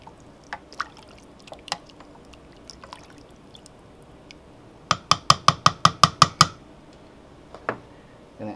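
Keto chicken soup with zucchini noodles and hot peppers is stirred in a Cosori multi-cooker, heard as scattered soft knocks, then a quick run of about eight sharp, evenly spaced clinks, close and fairly quiet.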